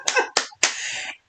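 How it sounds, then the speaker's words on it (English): A few quick handclaps sound up close and fairly loud: two short claps, then a third that rings out briefly before fading to silence. "We got to give you a clap clap for that."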